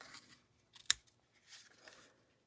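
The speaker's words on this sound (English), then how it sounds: "And scissors." Scissors cut paper during a small craft class, giving one crisp, close snip with faint paper rustles before and after in a quiet room.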